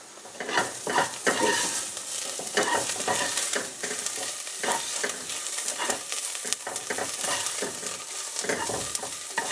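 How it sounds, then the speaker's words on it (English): Onions fry toward golden brown in a pan, with a continuous sizzle broken by frequent scraping stir strokes and utensil clatter, close up and without speech. "And I'm going to fry them golden brown."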